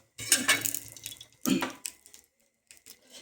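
Dishes and cutlery clink and clatter as a plate is served, with a few short bursts of handling close by and brief pauses between them.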